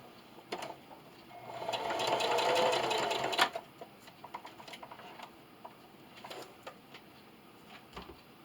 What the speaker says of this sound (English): I'm over here at my sewing machine